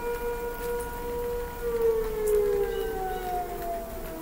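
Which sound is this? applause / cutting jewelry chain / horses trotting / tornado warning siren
tornado warning siren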